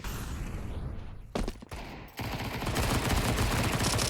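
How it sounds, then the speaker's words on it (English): Gunfire crackles in a Counter-Strike-style match during a pistol round, a dense rattle of shots, loud and near, with a brief sharp burst before a continuing barrage. "The pistols are out. Pistols looking to do damage here."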